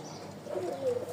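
A black flying pigeon from a Rajshahi loft gives a soft, low coo that swells and falls over about a second, close and alone against faint background hiss.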